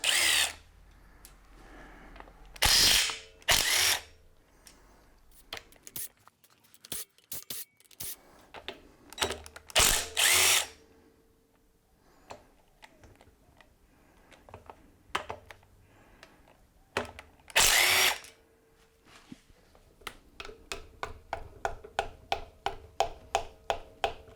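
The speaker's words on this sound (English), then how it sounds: "Let's take the rest of the bolts off." Power drill or impact tool spinning bolts off a backing plate in a garage, loud short bursts of whirring separated by pauses and clicks, ending in a rapid series of quick ratcheting pulses.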